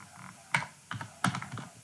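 Close-up computer keyboard typing: a few quick, separate key presses in short bursts, clear and fairly quiet, with no voice present.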